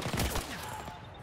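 Railgun shots in the Battlefield 2042 shooter, a dense cluster of loud, sharp blasts up front that give way to a ringing, droning tail over steady game ambience.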